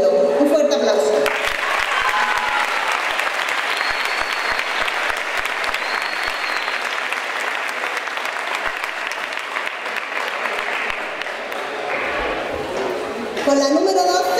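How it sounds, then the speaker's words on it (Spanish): Long, loud round of applause from a crowd at a Partido Popular local-election campaign rally, steady and dense for most of the stretch, with an amplified voice speaking at the start and end. "Un fuerte aplauso."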